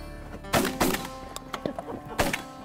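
Shotguns fired at ducks during a waterfowl hunt in Alberta: three sharp, loud blasts, two in quick succession and a third after a pause, with quieter knocks and movement in between.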